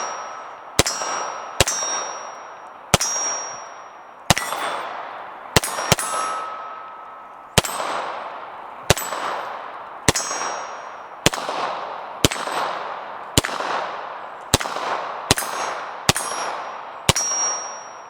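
Single shots from a Beretta M9A4 pistol fired outdoors, about fifteen sharp reports spaced a second or so apart, each ringing out with a bright metallic clang and decaying echo, with no talking.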